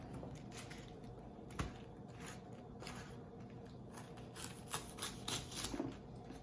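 A knife slices through cabbage for coleslaw in soft, faint, crunchy cuts that come at an irregular pace, with a few sharper chops standing out.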